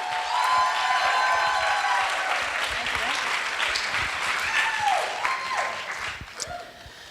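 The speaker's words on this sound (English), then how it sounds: "Power clap." A conference audience applauds and cheers loudly for a departing association president, dense clapping steady throughout before thinning slightly at the end, with voices mixed into the crowd noise.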